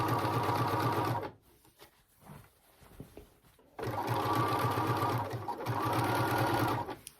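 Sewing machine running a zigzag stitch along a pillowcase fabric edge, a close rapid mechanical whirr in two bursts separated by a short quiet pause with faint handling noises.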